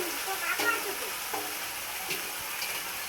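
Marinated chicken sizzles and crackles in hot oil in a pan while being stirred for chicken biryani, with a steady frying hiss and a few scraping stirs of the spoon.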